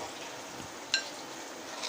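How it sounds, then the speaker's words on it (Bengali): Chopped onions fry in a pan for a chicken gravy, giving a soft, steady sizzle with one small pop partway through, quiet and close. "পেঁয়াজ কুচিগুলো আমি হালকা বাদামি কালার করে ভেজে নেব"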